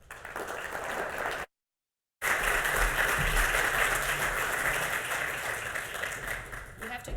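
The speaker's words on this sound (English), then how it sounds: "Let's give him a warm round of applause." Audience applause at the opening session of a Nobel Symposium in Physiology/Medicine, filling a venue with dense, steady clapping from a large crowd that continues evenly after a brief dropout, with faint voices underneath.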